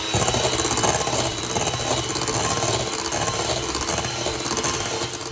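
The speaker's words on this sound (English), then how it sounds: "I'm just going to whisk it for another couple of minutes." A continuous, loud, busy whirring rattle fills the whole stretch as an electric whisk beats a thick cheesecake filling in a bowl, with no talking over it.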